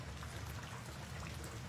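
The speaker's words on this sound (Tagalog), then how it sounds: "Ang ingay lang ng ulan na tumatama sa bubong ang nadidinig ko." Rain drums steadily on a roof, a dense, even patter of drops with no breaks, moderately quiet and close, with no voices over it.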